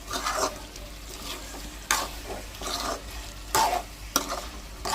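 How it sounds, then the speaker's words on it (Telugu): Garlic chicken frying in oil while being stirred, with bursts of scraping stirring over a steady close sizzle and no talking. "గార్లిక్ మంచిగా ఆయిల్లో ఫ్రై అయింది కదా, మంచి స్మెల్ వస్తుంది"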